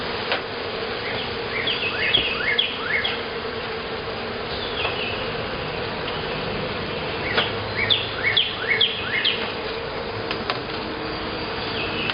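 Honey bees hum steadily around an open hive during a spring inspection, a dense continuous drone with a few faint bird chirps and light clicks on top.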